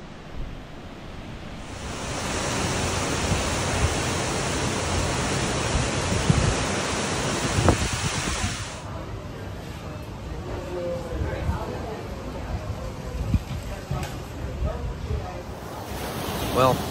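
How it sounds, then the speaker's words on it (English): Hurricane wind and rain in Jamaica roar outside a room as a steady, broadband rush, louder for the first half and then easing into a softer wash with faint movement inside. "we're trapped in the room because there's a hurricane"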